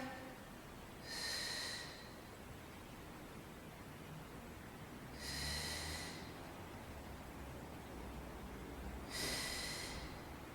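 Three spaced breaths during a children's floor exercise class, each a soft, airy hiss lasting under a second, clearly heard over a steady quiet background hum.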